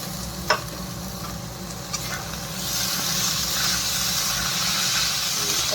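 Homemade paneer from 1.25 litres of milk frying and being stirred in a pan for paneer bhurji, a steady close sizzle with occasional scraping clicks, the hiss swelling louder midway through.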